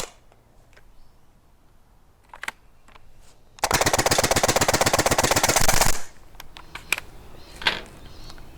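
Full-auto HPA foam dart blaster emptying its magazine in a rapid, loud burst of about two seconds, preceded and followed by scattered clicks and handling noises.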